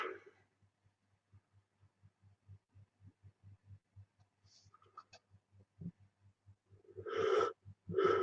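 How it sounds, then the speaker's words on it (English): A person yawns near the end, a drawn-out breathy voiced exhale heard over a steady, rhythmic low thumping that runs through the whole stretch. "Why am I yawning now?"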